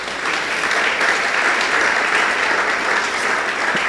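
A church congregation at a Sunday service for Pastor's Day applauds loudly and continuously, a thick, even roar of many hands clapping with no break throughout.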